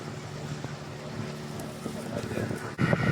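A boat at sea running on one engine gives a steady, close motor drone mixed with wind buffeting and water noise, with a louder thump near the end.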